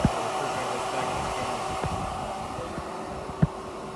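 Steady broadband whir of an HVAC refrigerant recovery machine pulling refrigerant and oil out of a system into a recovery can, running continuously with a few faint clicks and a soft thump near the end.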